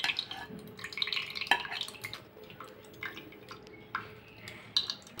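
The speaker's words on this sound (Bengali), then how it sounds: "এবার এই কমলা লেবুর রসটা ছেঁকে নেব।" Orange juice drips and trickles through a strainer into a bowl, with irregular splashes, light clinks of utensil against the bowl and soft stirring sounds, fairly close and without speech.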